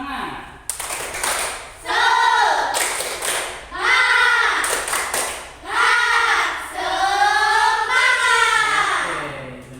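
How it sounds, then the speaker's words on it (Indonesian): Classroom of schoolchildren performing a rhythmic spirit clap, loud bursts of chanting voices with clapping in several repeated phrases, separated by short gaps. "Tepuk semangat."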